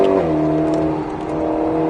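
Alpine A110S sports car accelerating on the Grand Circuit du Roussillon race track, a steady loud engine drone from onboard with a brief pitch drop early on, continuous over two seconds with no talk.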